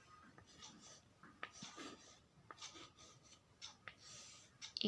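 Pen or marker scratching out numbers on a board in a fourth-grade maths lesson, a series of short stroke bursts with brief pauses, faint and close.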